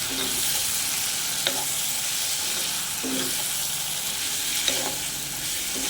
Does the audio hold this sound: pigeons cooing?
no